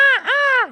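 A human voice imitates a seagull's call: two loud, close, nasal squawks with a clear harmonic stack, the first rising then dipping, the second held steady before trailing off, all under a second.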